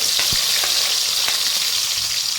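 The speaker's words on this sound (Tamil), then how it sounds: "நல்லா வதக்கிக்கலாம்" Small shallots sauté in hot oil with popped mustard seeds for drumstick sambar, a dense continuous sizzle with a few soft stirring taps, close and steady.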